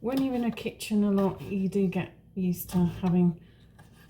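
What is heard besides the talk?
None of the usual background noises is heard.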